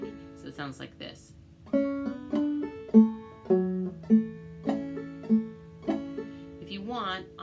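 A clawhammer banjo plays Big-Eyed Rabbit at a moderate pace, each twangy plucked note close and clear, with a steady bum-diddy rhythm of crisp string strikes and short ringing tones.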